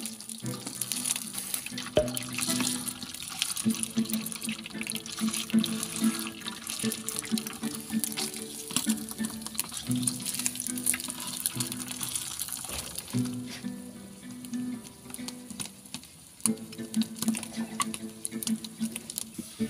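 Water from a running tap patters steadily over the pan of a Dreepor 1.8L electric cooker being washed in a sink, with continuous splashing and small clatters throughout.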